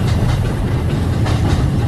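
Steady, loud rumble and rattle of a passenger train running on rails toward Canterbury and the boat, heard from inside with a constant low roar and faint rhythmic clatter, no voices.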